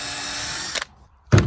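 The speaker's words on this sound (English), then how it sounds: "I'm going to drill another pilot hole here and screw that one in" Power drill boring a pilot hole into a wooden raised bed planter: a steady whirring run that cuts off, a short pause, then a second loud, brief burst of drilling close by.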